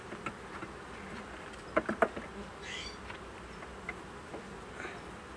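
Honey bees buzz during an apiary hive inspection at honey harvest time, a faint, steady hum of many insects with a few soft clicks and knocks from frames being handled.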